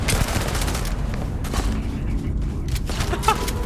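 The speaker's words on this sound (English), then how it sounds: "I just sniped Sam in the freaking face." Gunfire from a sniper rifle in the space game Starfield, a few sharp cracks and booms among busy combat noise in a loud, continuous firefight.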